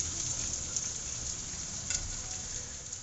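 Taro root (arbi) frying in hot oil on a high flame, a steady even sizzle with a couple of faint brief crackles, no voices.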